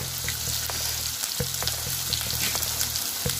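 Chickpeas with turmeric, onion, garlic and ginger frying in a pan, a steady close hiss of sizzling with a low rumbling hum and occasional clicks of stirring.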